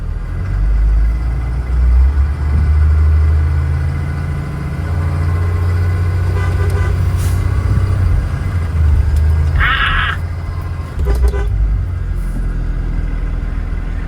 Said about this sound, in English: All right, we're gonna try power braking, see what happens.